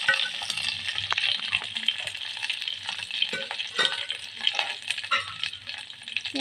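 Mustard seeds, curry leaves and asafoetida sizzle in hot oil, a close, bright crackle with scattered pops and the scrape of stirring, alone without talk.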